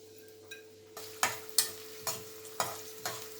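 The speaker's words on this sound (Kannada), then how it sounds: "ನಾನು ಕಟ್ ಮಾಡಿ ಇಟ್ಕೊಂಡಿರುವಂಥ ಈರುಳ್ಳಿಯನ್ನು ಹಾಕೋತಾ ಇದ್ದೇನೆ." Chopped onions tossed into hot ghee in a pan for chicken ghee roast: a soft sizzle runs underneath, punctuated by about six close, regular scraping stirs of a spoon.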